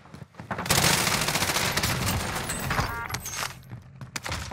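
Rapid automatic gunfire from Call of Duty Warzone, a dense burst of shots rattling loudly for a few seconds, then breaking into scattered single shots.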